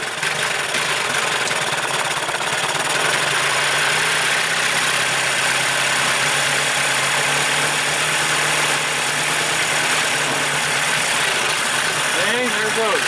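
An Evinrude 40 outboard motor runs loud and continuous nearby with a steady mid-low drone that stays even throughout, and any misfire is not clearly audible.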